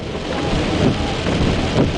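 Heavy rain and storm noise while driving in Clovis, New Mexico, a dense steady wash of rain on the vehicle with low rumbling swells, loud and continuous with no talking.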